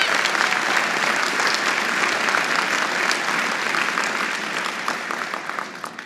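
Ceremony audience giving a round of applause at a law school event, a thick, continuous patter of many hands that gradually thins and softens toward the end.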